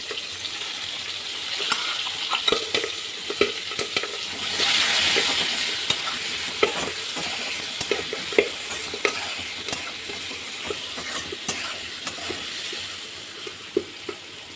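Potatoes seasoned with salt and turmeric fry and sizzle steadily in a pan, a constant hiss broken by frequent scrapes and clicks of stirring, with a brief surge in sizzle partway through and no talking.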